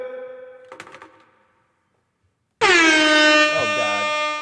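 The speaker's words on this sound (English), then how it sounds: "And then I blew your ears off with the air horn." An air horn lets out a loud, sustained blast with a bright tonal blare that holds for about two seconds and stays close. Before it, a softer horn-like tone and a few knocks fade into silence.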